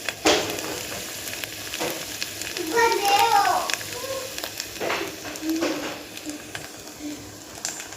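Masala fries in oil for Marathi varan dal, giving a continuous crackling sizzle up close with stirring scrapes. A voice speaks briefly over it midway.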